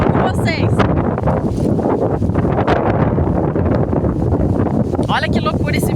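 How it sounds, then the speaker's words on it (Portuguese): Strong wind gusts buffet the microphone outdoors in a steady, loud roar that fills the whole clip, with a voice talking over it. "Olha que loucura esse vento"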